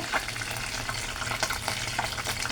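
Bay leaf, dried chilli and tomato fry in hot oil in a frying pan, making a dense, near sizzle with crackling bursts and stirring clatter, and no talking.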